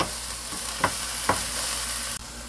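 Carrots and potatoes stir-fry in hot cooking oil for a Korean potato side dish, a constant close sizzle broken by a few scraping stirs of the utensil, with no talking.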